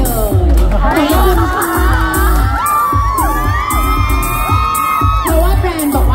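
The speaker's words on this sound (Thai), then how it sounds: "ขอเสียงปรบมือดังๆอีกครั้งนึงให้กับทั้งสองท่านนะคะ" A crowd at a 3CE lipstick launch in the Siam Paragon mall claps, cheers and lets out high shrieks and whoops for two guests, loud, close and sustained.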